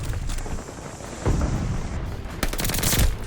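A machine gun fires in the video game Call of Duty Vanguard, dense loud bursts of rapid automatic shots over a constant rumbling noise, heard up close without speech.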